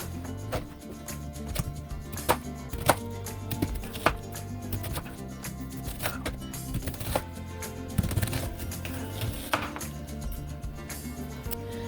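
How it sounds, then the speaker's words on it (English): Knife dicing half a red onion on a cutting board, a fast irregular series of close, crisp chopping taps with no talking. "Now we're only going to dice about half of one of these."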